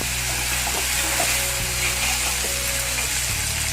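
Peppers sizzle and fry in hot oil in a pan with whole spices, among them bay leaf, star anise, cinnamon, mace, cumin and cardamom. The frying is a steady, close, dense crackle with faint stirring and no talk.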